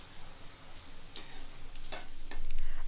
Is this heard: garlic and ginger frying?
yes